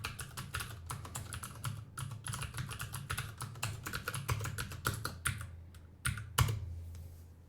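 Code typed on a computer keyboard for a compiler project, with rapid, steady keystrokes close by and a brief pause before a few final taps.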